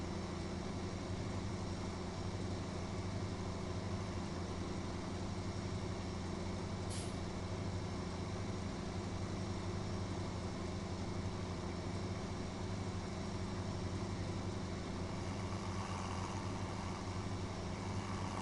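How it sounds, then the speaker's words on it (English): A truck hauling a trailer in Farming Simulator 2017 drones at a steady low engine pitch under load, with a short sharp hiss partway through and no speech. "You can hear it really pulling on that trailer."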